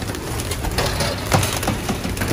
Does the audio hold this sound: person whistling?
no